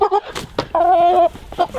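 Chickens on a farm cluck near the meat-chicken pen, a few short close clucks followed by a longer drawn-out call and another brief cluck.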